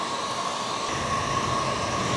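Hair dryer blowing hot air onto glue on an old table being repainted, a steady close whooshing roar with a faint whine, constant and alone.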